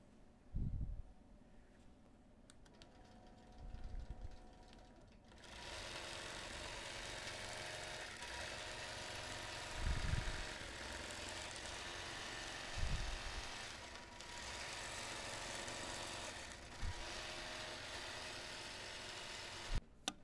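A quilting machine sews a quilt in edge-to-edge mode with a steady motor hum, starting after a few seconds of soft thumps and running on with occasional low bumps.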